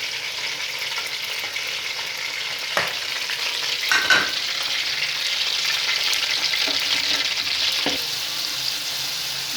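Meat sizzles steadily in hot oil for aloo gosht, a continuous bright frying hiss broken by a few stirring scrapes and clinks of a spoon in the pot.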